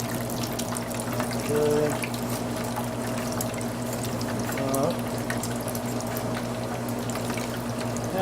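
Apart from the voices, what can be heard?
water draining from cooking pot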